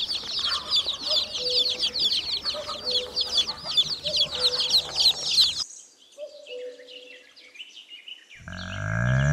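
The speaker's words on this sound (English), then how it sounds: "Chicks." Farm chicks chirp rapidly and continuously in a busy, high-pitched chorus for several seconds, then the sound cuts away to a brief quiet stretch and an abrupt change.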